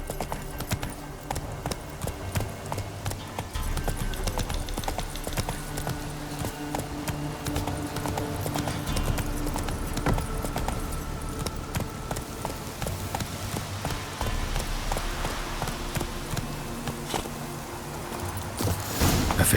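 A horse gallops in The Witcher 3 video game, with rapid, rhythmic hoofbeats clip-clopping steadily and fairly close for the whole stretch, mixed with game ambience and no talking.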